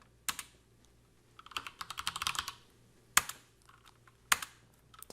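Someone types on a computer keyboard while setting up a server from the command line, close, crisp key clicks coming in short bursts and single taps separated by pauses.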